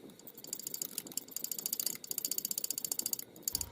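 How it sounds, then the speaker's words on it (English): Quick, steady ratchet clicking as oil pan bolts come off a Chevy/GMC 3.6L engine, close and crisp, in short runs with brief breaks between them. "So let's quickly take those bolts out"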